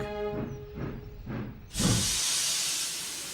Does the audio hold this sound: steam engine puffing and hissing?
yes